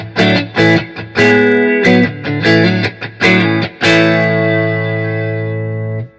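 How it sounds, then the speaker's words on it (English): Clean, warm electric guitar through a Vox VT40X valve amp with light reverb, a few strummed and picked chords ringing out, the last one sustaining and fading. "So this is just the amp with a bit of reverb on it."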